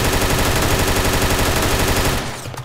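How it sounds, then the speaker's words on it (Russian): Rapid automatic gunfire in the Roblox shooter Arsenal, a dense continuous burst of shots at steady fast rhythm, loud and close, cutting off near the end. "Кто по мне стреляет, я не пойму."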